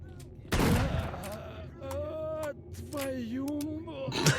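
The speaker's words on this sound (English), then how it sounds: "I like this little tiny shotgun." A small shotgun in STALKER: Shadow of Chernobyl fires one loud, close blast near the start, followed by a voice talking and another sharp report at the end.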